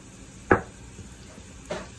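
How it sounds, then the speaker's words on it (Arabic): Chopped onion hitting hot oil in a pan for spiced rice, giving two brief sizzling bursts, the first louder, over a low kitchen background. "غادي نخليها تشحر شويه هنايا هذه البصله"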